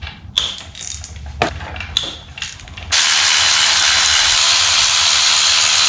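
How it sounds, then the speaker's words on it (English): A ratchet loosens the two brake caliper bolts on a Kawasaki ZX6R during a brake service, giving a few short clicking bursts in the first seconds, followed by a steady loud rushing noise. "There are just two bolts over here to break this loose."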